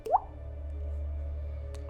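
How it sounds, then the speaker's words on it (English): A single drop of water plops near the start, then a low steady hum carries on under it in a quiet, dark room. "Just like water dripping."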